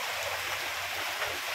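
A swollen river rushes behind a house after heavy rain, a dense, steady roar of flowing water with no pauses.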